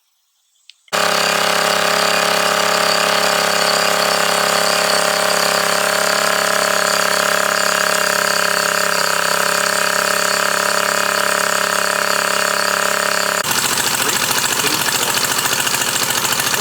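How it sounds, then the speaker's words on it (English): A Mercury 50HP outboard motor runs on flushing muffs during a Seafoam shock treatment. It starts abruptly and then holds a loud, steady, droning idle with a rough, even pulse, close by, with no talking. "Halfway through the tank of gas here, and this thing is already idling."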